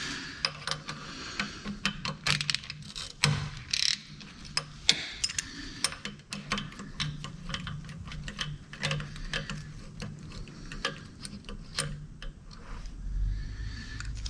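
A wrench works a fitting loose on a car turbo, producing irregular runs of sharp metallic clicks and ratcheting ticks, close by and moderately loud.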